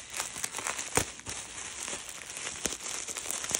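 Bubble wrap crinkles and rustles continuously up close, with a few sharper crackling snaps scattered throughout.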